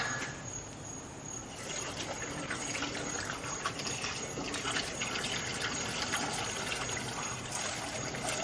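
Liquid pours steadily into the old gas tank of a rotten 1956 oval-window VW Beetle, making a faint, continuous trickling hiss with no pauses.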